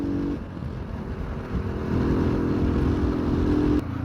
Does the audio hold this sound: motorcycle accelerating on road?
yes